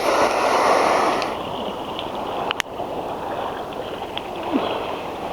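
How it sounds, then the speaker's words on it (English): Ocean waves surge around swimmers off Thailand's islands near Phuket and Ko Phi Phi. There is a loud rushing wash at first, then a softer continuous churn of water with one sharp knock partway through. "These waves are kicking my ass."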